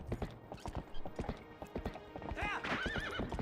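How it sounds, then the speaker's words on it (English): A horse in Zelda: Twilight Princess (Japanese GameCube version) clip-clops with steady hoofbeats, then gives a loud whinny near the end, with some speech present. "Nay, says the horse."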